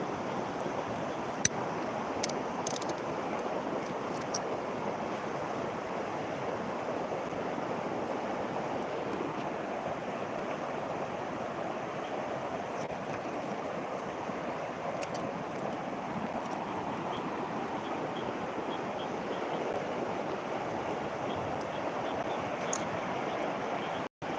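A swollen river rushing after heavy rain, a dense, steady roar of water with constant broadband wash and no break throughout.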